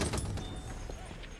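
Horse hooves galloping in the World War I shooter Battlefield 1, a brief clatter of hoofbeats mixed into busy, loud battlefield game noise.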